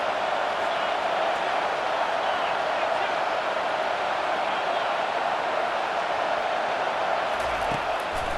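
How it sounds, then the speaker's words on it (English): A steady stadium crowd roar fills a third-down play in the college football video game EA CFB 25, a constant broad wash of noise that holds at an even level throughout. "Decibels rising as the crowd gets behind this defense on third down"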